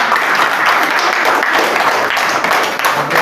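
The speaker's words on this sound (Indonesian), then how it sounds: "berikan aplaus untuk kelompok 5" A group applauds steadily for presenters at a university teaching session, with dense, even clapping from many hands held at a loud, constant level for the whole stretch.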